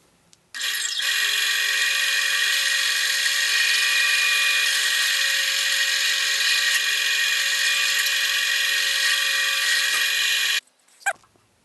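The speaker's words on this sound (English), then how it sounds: "Not sure you'll see much, but I'm drilling these holes now." A small power drill bores holes into an aluminum angle bracket, a steady high-pitched whine running unbroken for about ten seconds, close and loud, before stopping abruptly with a brief clatter.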